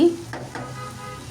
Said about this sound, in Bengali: এই তো ঢাকনা খুলে আবার নেড়ে চেড়ে দিচ্ছি